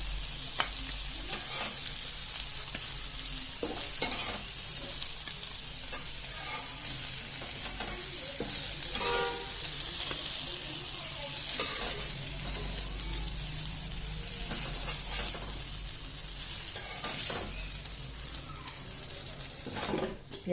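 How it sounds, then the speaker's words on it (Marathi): Ridge gourd peel chutney roasting in oil in a pan gives a continuous close sizzle, with occasional scrapes and clinks of stirring over a steady frying hiss. "थोडं तेल टाकायचं आणि दोडक्याची चटणी पण भाजून घ्यायची."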